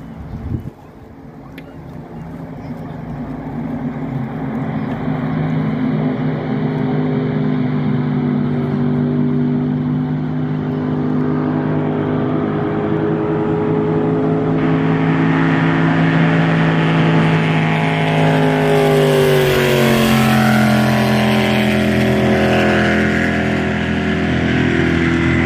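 Racing powerboats at the Bridge to Bridge race on the river at Hamilton, New Zealand, roar continuously and loudly, with the engine note rising and shifting as a boat passes close by.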